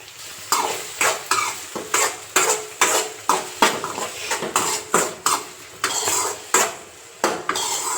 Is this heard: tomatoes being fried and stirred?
yes